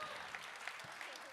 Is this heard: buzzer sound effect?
no